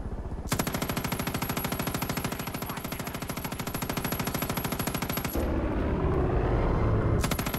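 Rapid automatic gunfire rattles in the video game Far Cry 5, a long continuous burst of evenly spaced shots that stops abruptly, followed by a rumbling lull before firing resumes at the very end.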